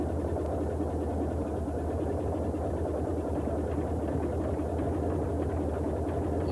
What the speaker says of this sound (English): And now we'll call the engineer to start the right engine.